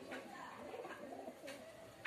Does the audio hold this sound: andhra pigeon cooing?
yes